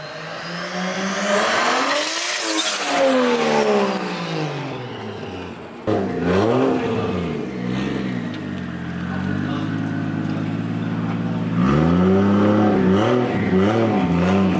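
A Nissan Silvia with a 1JZ engine revs up sharply, then drops, followed by repeated throttle blips and a rising rev near the end, loud and close.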